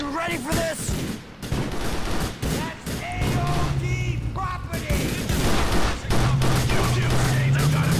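Submachine gun fire in GTA 4 The Lost and Damned rattles off in loud, rapid bursts, mixed with motorbike engine drone and chaotic action sounds.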